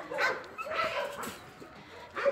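Several dogs at a shelter housing around 200 dogs bark, yip and whimper in short bursts close by, repeating irregularly throughout.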